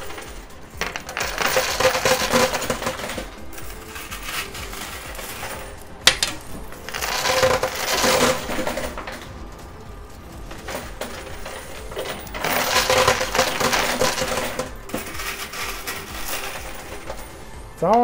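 Quarters cascade and clatter in a high-limit coin pusher arcade machine, a dense metallic rattle swelling in three long bursts between brief lulls, loud and close with no talk.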